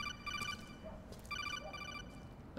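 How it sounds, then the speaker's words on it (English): An incoming codec call rings in Metal Gear Solid 4: Guns of the Patriots. Two bursts of rapid, trilling electronic beeps sound clearly, separated by a short pause, with a third burst starting at the very end. "That bloody phone call noise."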